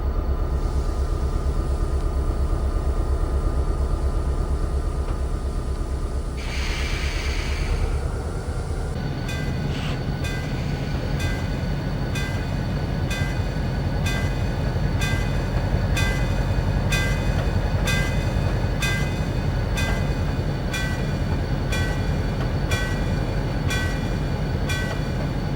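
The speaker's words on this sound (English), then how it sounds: "Today, the Ogden Bullet is one of the few streamliners remaining in regular service." The Ogden Bullet, an aluminum streamliner train, rumbles past at length. A low steady roar is joined by a long run of regular clickety-clack beats from the wheels, loud and near throughout.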